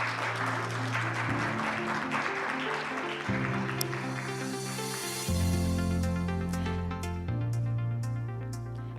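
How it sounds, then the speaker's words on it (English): An audience at an Asian Development Bank finance conference applauds to welcome a moderator to the stage, a dense sustained wash of clapping over loud walk-on music for several seconds before it thins out. "Please welcome him with a big round of applause."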